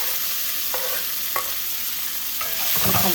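Beans, carrots, curry leaves and green chillies stir-fry in hot oil, a steady close sizzle broken by a few sharp spatula scrapes and a louder tossing burst near the end.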